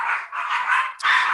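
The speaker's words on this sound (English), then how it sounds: "Stupid dogs." Dogs barking in quick repeated bursts, fairly close and loud, with a short pause before a final sharp yelp-like bark.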